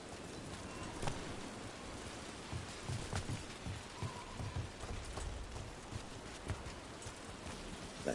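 Steady rain falling in the Dragon Age video game, a constant wet hiss with scattered drops and some soft clopping hoofbeats, heard alone with no speech.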